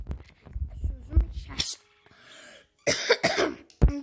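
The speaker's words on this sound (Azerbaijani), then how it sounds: "Dostlar öskürürüm. Çünkü hastaydım ona göre." A person who is ill coughs several times in short, harsh bursts close by, with quiet gaps between them and a final cough at the end.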